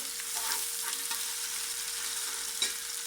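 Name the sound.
ginger garlic paste frying with browned onions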